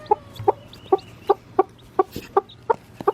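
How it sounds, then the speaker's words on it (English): A mother hen clucks in an even rhythm, about ten short, close, clear calls, with faint sounds from her baby chicks underneath and no talking. "Let's check on little mama and the baby chicks."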